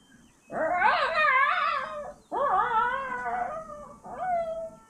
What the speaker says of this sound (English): you guys hear a distressed animal sound coming from the woods